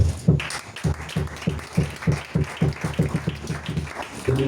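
A church congregation at a seminar claps in a steady, rhythmic beat to acclaim the king, loud and close, with deep thumping pulses running evenly throughout.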